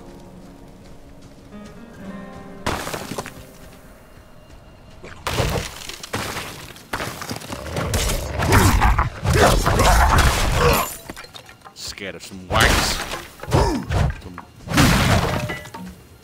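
Hollow trees smashed in Diablo 4, a run of loud crashing and shattering impacts in heavy bursts after a quieter opening, with a brief spoken line early on.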